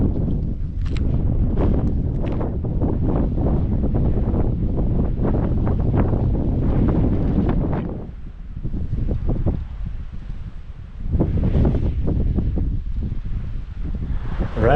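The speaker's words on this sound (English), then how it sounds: "it is windy up here" Strong desert wind buffets the microphone in loud, rumbling gusts that ease briefly and then surge back, with no one speaking.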